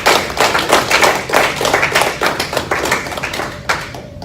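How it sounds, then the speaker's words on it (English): Audience applause at a university lecture, a dense run of claps filling the room steadily for several seconds before thinning out at the end, with no voices. "Let's give him a round of applause."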